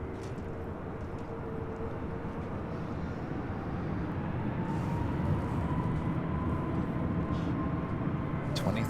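A Southwest airliner taking off from runway 24 left at Los Angeles International Airport, a broad rumbling jet roar that holds steady and slowly grows louder across the stretch, heard from a distance outdoors.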